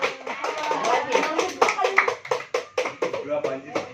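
An audience at a talk on preventing online game addiction applauds together in a burst of quick, uneven, close hand claps. Voices and chatter run underneath.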